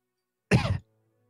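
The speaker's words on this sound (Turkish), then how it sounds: "İyi öksürdün." One short, sharp cough, close and loud, surrounded by silence.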